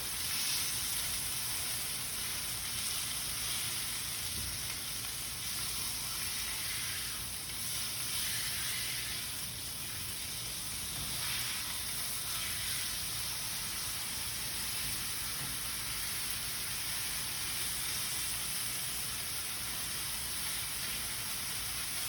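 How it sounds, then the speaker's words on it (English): Steak searing in a hot pan gives a steady, close sizzle and hiss that holds evenly throughout, with faint crackle and no talking. "We wanna make sure we're searing the bottom to lock in those juices."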